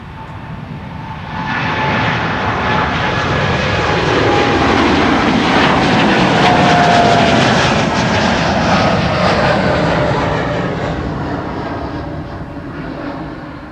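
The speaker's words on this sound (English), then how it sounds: "There's the A330neo" An Airbus A330neo airliner departs Schiphol's Kaagbaan runway, its roar building from quiet to a loud, sustained rumble that peaks midway and then eases off.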